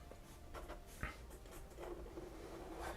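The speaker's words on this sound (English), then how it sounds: "I'm just sketching some kind of a house." Pen strokes scratch steadily across paper while a house is sketched freehand, soft and close with a few brief louder scrapes.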